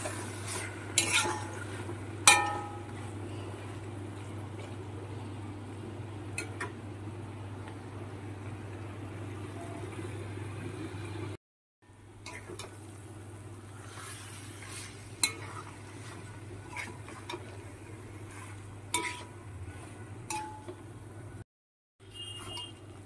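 Stirring a pan of Malabar spinach curry with hilsa fish head: soft scraping and occasional spoon clinks against the pan over a steady low hum, with brief gaps of silence.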